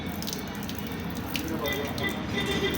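Water runs steadily out of a vehicle's petrol tank, a soft continuous trickle and splash heard from close range, fairly quiet throughout.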